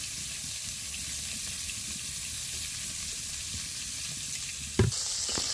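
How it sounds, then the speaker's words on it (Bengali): Prawns fry in oil in a pan with an even, hissing sizzle held close and steady, then a couple of brief clatters near the end as the pan or pieces are handled. "চিংড়ি মাছটা ভাজা হয়ে গেছে, এবার তুলে নিচ্ছি।"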